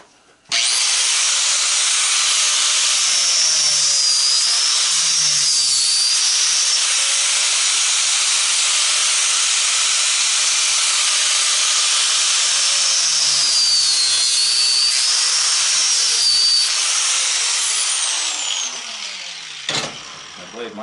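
A saw blade cutting through a brass propane regulator: a loud, continuous harsh grinding hiss that holds steady for about twenty seconds before cutting off, with faint talk in the background.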